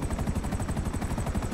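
Helicopter in the video game GTA 5 Online: a fast, steady rotor thump pulsing evenly over a constant engine drone, close and loud throughout, with no talk.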